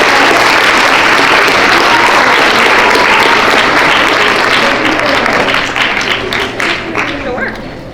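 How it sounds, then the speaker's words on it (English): Loud, sustained applause from a school assembly audience cheering first grade students, dense clapping that gradually thins and softens toward the end, with faint voices mixed in. "All right, one round of applause for first grade."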